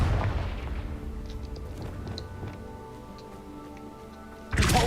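A Confringo spell explosion in Hogwarts Legacy bursts with a heavy boom that rumbles and decays with faint crackles, followed by a second sharp blast at the very end.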